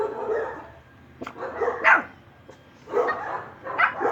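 Several Miniature Pinscher x Chihuahua dogs give short, sharp barks and yips in irregular bursts, fairly close and moderately loud, with brief pauses between the outbursts.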